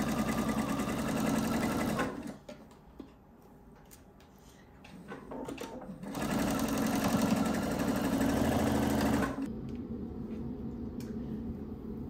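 A domestic sewing machine basting a bodice onto a skirt runs in two loud, steady bursts of whirring stitching, separated by a short quieter pause with small handling clicks.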